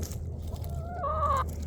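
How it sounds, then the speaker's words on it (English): Chickens on a country walk make close clucks, and one drawn-out, rising vocal call stands out over a low outdoor background. "Chicken action."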